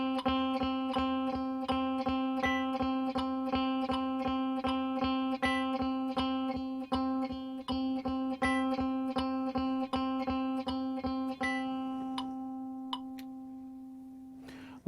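A single guitar note repeated evenly as eighth notes in a quick steady pulse, about two per second, sustained and clear, then fading out with a final strum.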